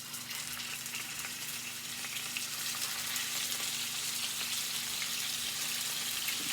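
Beef tenderloin frying in a pan on high heat gives a steady, close, loud sizzle and crackle of hot oil that holds unbroken throughout, with no talking.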